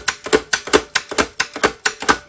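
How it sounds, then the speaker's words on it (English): The paper feed lever of a Classic Perkins Brailler ratchets with about a dozen sharp mechanical clicks in a steady, quick rhythm, loud and close. "we've got the paper feed lever."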